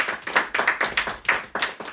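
Applause from an audience at a live comedy magic show, arriving in rhythmic bursts of clapping that swell and ease several times, fairly close and loud.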